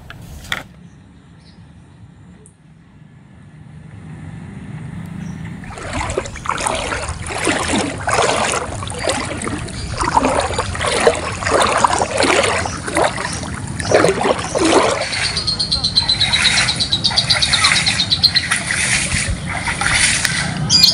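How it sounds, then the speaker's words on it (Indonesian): Floodwater from the overflowing Serang River in Grobogan, Central Java, rushes and splashes steadily through flooded village ground, a dense churning wash that swells after a quieter opening and stays loud throughout. "ratusan rumah di Grobogan terendam banjir akibat luapan Sungai Serang"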